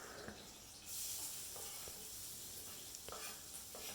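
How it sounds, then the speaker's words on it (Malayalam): Sliced onions fry in oil in a pan for dal fry, making a soft, quiet, steady sizzle and hiss with a few faint clicks, no talking. "അതിനെ ഇനി അങ്ങോട്ട് ഫ്രൈ ചെയ്യാന്ന് പറഞ്ഞു കഴിഞ്ഞാൽ നന്നായിട്ട് അത് ഗോൾഡൻ കളറിൽ വരണം"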